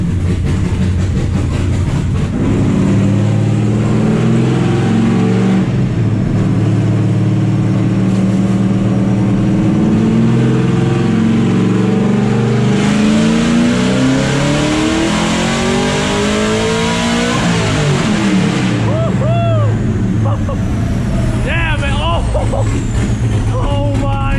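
LS7-powered NASCAR truck engine on nitrous, loud and close, holding a heavy sustained roar that climbs and shifts in pitch as it revs, with excited voices shouting over it.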